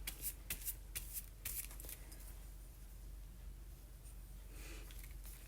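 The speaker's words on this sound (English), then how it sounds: "just let your brush drag so you don't rip your tissue" A brush drags and scratches over tissue paper laid on a small art card, making soft, close, papery swipes in a quick burst at the start, then a quieter continuing rustle.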